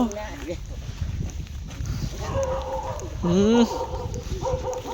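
A dog barks and yips near a forest stream during a rural frog-hunting outing after the first rain. Its bursts and whines rise over a steady outdoor background, mixed with people talking.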